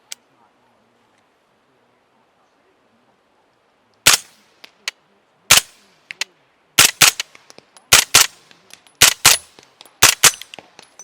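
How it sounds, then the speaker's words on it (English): Suppressed CMMG Banshee firing subsonic hush ammunition outdoors at a range: after a quiet start, a string of sharp, close cracks comes in irregular singles and quick pairs, roughly a dozen shots. "Again, we're shooting some hush ammo here."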